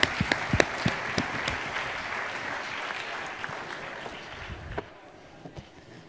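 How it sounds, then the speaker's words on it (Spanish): An audience at a cardiology talk applauds a doctor, with steady clapping that is fairly close and moderately loud, then tapers off near the end. "Damos un aplauso a la doctora Castro"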